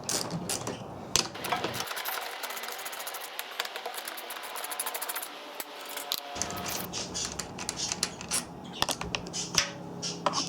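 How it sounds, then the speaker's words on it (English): A 10mm socket on an extender loosens nuts on a Kawasaki Ninja 250R motorcycle, giving close, quiet metallic ratcheting clicks and small taps in irregular bursts, with no talking. "We'll get our 10mm socket with the extender. And we're going to loosen up these nuts here,"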